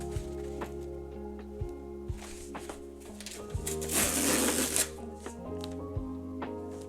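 Manga packages being opened up close: soft crinkling, rubbing and tearing of packaging with scattered taps and one louder rustling burst near the end, all against a steady low hum.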